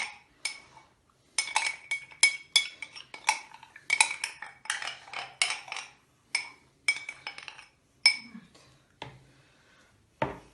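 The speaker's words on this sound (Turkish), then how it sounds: "biz tahinle şekeri karıştıralım" A spoon scrapes and clinks against a bowl while mixing tahini and sugar, with irregular bursts of tapping and scraping separated by short pauses, close and fairly quiet.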